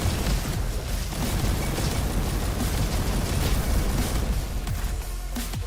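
A rocket-jump explosion in a shooter video game, heard as a loud continuous rumbling blast with crackling debris that persists at full strength throughout.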